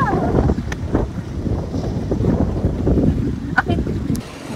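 Strong wind buffets the microphone with a low, rumbling roar and gusty swells in Baliuag, Bulacan, while people talk faintly under it.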